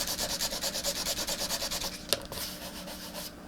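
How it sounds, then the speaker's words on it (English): Sandpaper rubs back and forth over a sealer bump on an acrylic painting in quick, regular strokes, a close scratchy swish repeating about six times per second before slowing into a few softer, irregular rubs. "I'm going to sand it until I don't feel it anymore"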